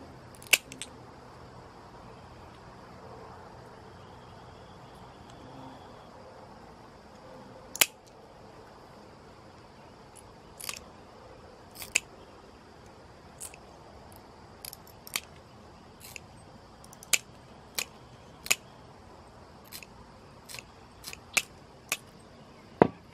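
Scissors cut small green leaf shapes for homemade resin stained glass windchimes, with scattered crisp snips at irregular intervals over a quiet outdoor background.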